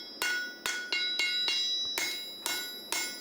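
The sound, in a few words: hammering steel to hand-make a horseshoe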